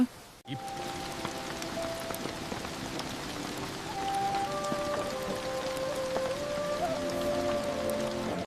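Heavy monsoon rain falls in a village, a steady dense hiss of drops drumming on surfaces that thickens partway through, with faint tonal sounds drifting underneath.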